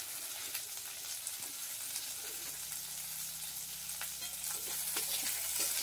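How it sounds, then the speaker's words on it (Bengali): Onions sizzle in a pan, a soft, even frying hiss with occasional spatula scrapes and stirring clicks, growing a little louder toward the end, no speech. "পেঁয়াজগুলো বন্ধুরা একটু ভাজা ভাজা হয়ে উঠলে"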